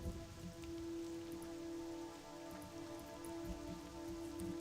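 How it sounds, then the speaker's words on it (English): Video game rain falls in an elven forest, pattering steadily on a surface with scattered drips, under a constant low hum, with no one talking. "Elven forest in the rain."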